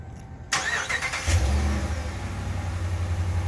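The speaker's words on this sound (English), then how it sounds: "Vehicle will take about 5 seconds to start." A 2018 Ram 1500 pickup's engine turns over by remote start after a quiet pause, catching with a sharp burst and settling into a steady, close, low idle rumble.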